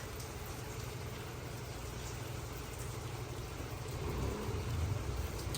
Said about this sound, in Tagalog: Ayan guys, at umulan na nga ng malakas.